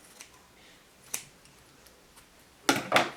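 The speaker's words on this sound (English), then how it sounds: "I'm going to start cutting these edges, and for that you can just start with the scissors" Scissors snipping the edges of a handmade fake heart, a few quiet isolated clicks followed by two louder, close snips near the end, no talking.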